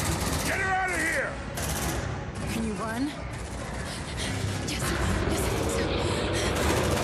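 Rapid automatic gunfire from squad weapons in the sci-fi tactical game Aliens: Dark Descent, dense and loud throughout, mixed with game effects and alien shrieks while players talk over it.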